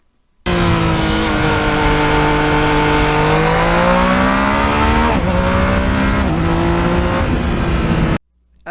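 Yamaha MT-09 motorcycle engine under riding load, a loud, steady drone that rises in pitch through the gears with brief dips at shifts, close and continuous, with no talking.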